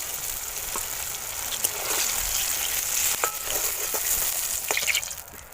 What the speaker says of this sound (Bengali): বাকি বেগুন যে আছে এইভাবে লাল লাল করে ভেজে নেব